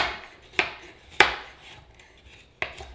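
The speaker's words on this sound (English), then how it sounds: "Okay, lastly, I'm gonna roughly chop some carrots." Three separate knife strokes on a cutting board as carrots are roughly chopped, sharp close knocks spaced unevenly over a quiet kitchen background.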